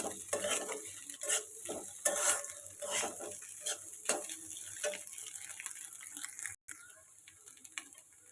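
Egg, fried potato and instant noodles being stirred together in a frying pan: repeated scraping, clinking strokes of a utensil against the pan over a soft sizzle, close by, with no voices.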